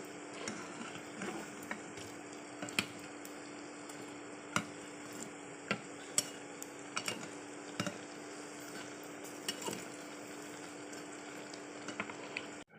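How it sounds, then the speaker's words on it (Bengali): Red amaranth fritters sizzle in hot oil in a pan, a steady low frying hiss broken by scattered sharp taps and clicks as the pakoras are turned, fairly quiet and close with no talking. "বড়াগুলো উল্টিয়ে দেব।"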